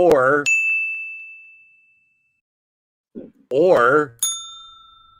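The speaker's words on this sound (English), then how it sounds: "Anytime I ring the bell" A small bell rung twice during an improv game session, each ring a bright ding with a long ringing tail, separated by a couple of seconds of quiet; brief bursts of voice accompany the rings.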